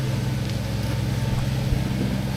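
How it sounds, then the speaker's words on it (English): A large tractor engine runs outdoors at a forest park caravan site while cutting grass, a low steady rumble with a constant drone throughout. "Big tractor, look at that!"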